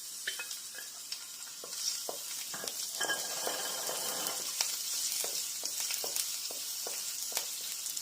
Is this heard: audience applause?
no